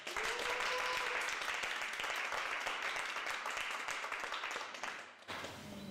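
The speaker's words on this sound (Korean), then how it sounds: "나오실 때 큰 박수로 환영하겠습니다." An indoor audience at a church mission-sharing talk gives warm, steady applause to welcome a speaker to the stage, loud and sustained before it tapers off at the end.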